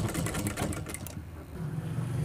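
A sewing machine runs close up for about a second, stitching along the folded neckline edge of a cotton vest, then stops and leaves only quiet room noise.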